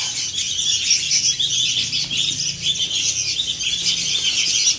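Ten sooty-headed bulbul (kutilang) chicks chirp together in a loud, dense, continuous chorus of high-pitched cheeps, close by and without any talking.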